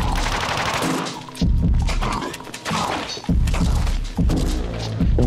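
Gunfire in a Nintendo Switch video game demo, heavy bursts of automatic shots with thuds and impacts, loud and dense, broken by short pauses between volleys.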